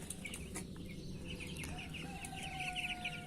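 Young broiler chicks and chickens in a homemade cage give soft cheeps and clucks over a steady low background hum, moderately distant and fairly quiet.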